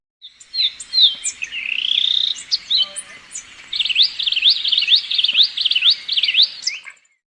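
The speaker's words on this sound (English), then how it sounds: "Euphonia." A euphonia sings alone and close, with bright high whistled phrases: a slurred rising note, then a fast repeated zigzag trill, then a few short chirps against a quiet background.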